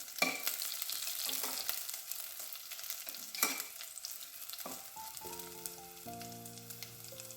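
Garlic and dried red chilies frying in hot oil for a stir fry: a close, steady crackle and sizzle with a few stirring scrapes. Near the end a short melodic tone plays over it, and no one speaks.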